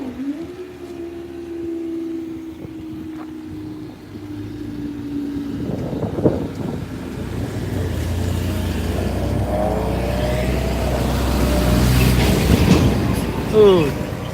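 The LNER steam locomotive Flying Scotsman passing over Cromwell Lane level crossing, a long steady rumble and clatter of carriages building in loudness as the train goes by, with a sustained whistle-like tone early on and squeals near the end.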